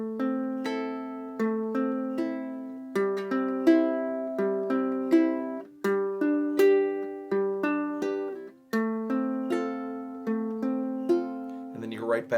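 A fingerpicked ukulele intro pattern on re-entrant GCEA tuning, steady plucked notes repeating close and clear, ending with a brief scrape of fingers on the strings.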